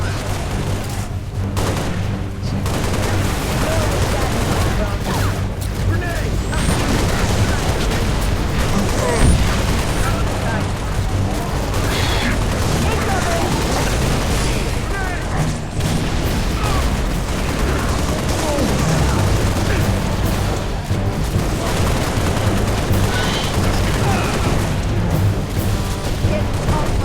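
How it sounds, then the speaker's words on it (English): Dense, continuous gunfire and explosions fill a Halo Reach battle on Legendary difficulty, a steady loud barrage of rifle bursts and booms with no pauses, with a voice talking over the fighting at times. "Laying down heavy fire."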